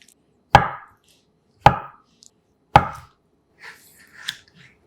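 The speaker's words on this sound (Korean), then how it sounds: "담백한 두부 한 모는 반을 잘라 1cm 두께로 편 썰어주세요." Three sharp, evenly spaced knife chops on a cutting board as a block of tofu is cut into slices, each a crisp thud with a short decay, followed by faint handling noises.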